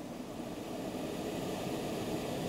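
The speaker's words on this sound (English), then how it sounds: "Now let's raise engine RPM to 2500 and add a load." A car or truck engine runs raised to 2500 RPM under an electrical load from a 150-amp alternator, giving a steady, loud, broadband roar that holds close and constant throughout with no speech.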